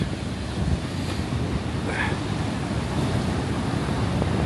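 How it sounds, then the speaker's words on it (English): Rough sea surf breaking continuously on Aberdeen beach at high tide in strong wind, a steady broad roar with heavy wind buffeting on the microphone and no voices. "Especially with the size of those waves."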